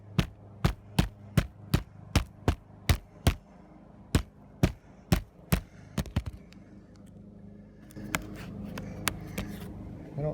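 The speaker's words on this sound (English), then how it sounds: "So we're just going to hammer all them back down." Loose nails get hammered back down on a roof flange, about fifteen sharp, evenly spaced strikes close by, then a burst of scraping and shuffling noise outdoors.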